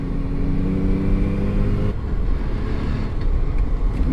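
A restored stock 1995 Mazda RX-7 FD with a 13B twin-turbo rotary engine revs loudly and steadily up close, the tone shifting midway as the throttle changes.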